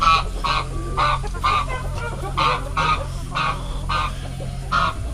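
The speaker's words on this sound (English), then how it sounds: "We've got roosters in the wrong pen." Chickens and roosters in a farm pen cluck in a steady string of sharp, repeated calls, fairly close, over a low background drone and without talk.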